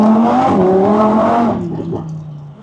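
A car passes outside a house at night with its engine revving hard, a loud rising and falling whine that peaks close by, then fades as it moves away.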